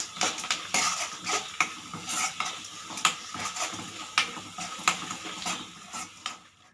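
A spoon stirs turmeric and asafoetida into lemon rice in a pan, with repeated scraping and clinks of metal against the pan and a soft sizzle underneath, steady and close, with no voices.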